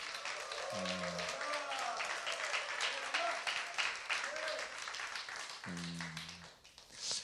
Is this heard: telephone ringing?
no